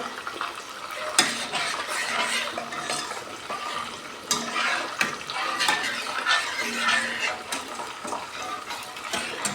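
Spice masala is stirred and fried with chicken in a pan: scraping spatula strokes and bursts of sizzling, with occasional clatters of the utensil against the pot.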